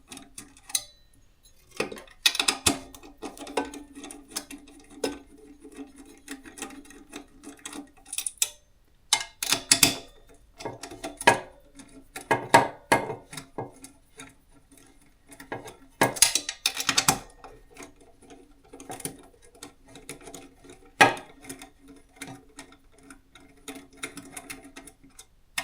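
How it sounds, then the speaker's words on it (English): A 7mm driver unscrewing nuts on the transmitter of a Motorola XPR8400 repeater gives scattered metallic clicks, taps and rattles in uneven bursts, near and fairly quiet. "you're going to take your 7mm screw head there and simply just unscrew these nuts"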